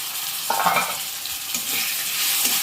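Carrot and tomato frying in a pan for a home-style carrot fry, a loud continuous hiss of sizzling oil with occasional soft spatula stirs, close by and without speech.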